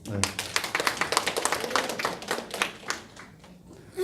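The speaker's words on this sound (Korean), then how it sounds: "맞으면 박수 주십시오" Audience at a lecture on community education clapping hands in a quick, fairly close patter that thins out toward the end, with speech mixed in.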